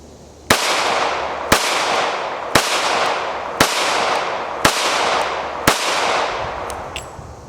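Six sharp, evenly spaced shots from a Smith & Wesson Performance Center Bodyguard 2.0 compact ported pistol, each crack loud and close, fired alone at roughly one-second intervals with no talking.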